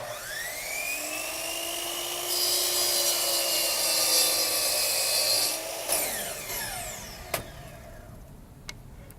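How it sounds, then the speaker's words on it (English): Double bevel sliding compound miter saw spinning up with a rising whine, then a high-pitched steady motor howl as the blade cuts through wood, the tone falling away as it winds down, followed by a few sharp clicks and knocks. "Draw the saw out, pull the trigger,"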